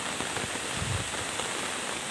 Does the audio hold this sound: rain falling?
yes